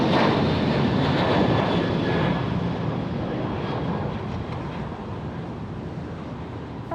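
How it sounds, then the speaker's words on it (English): Bombardier Global Express business jet taxiing at San Jose International Airport, a loud steady engine roar and whine that eases off slightly as it continues, heard alone with no talking. "this Global is going to be taxiing over to Atlantic"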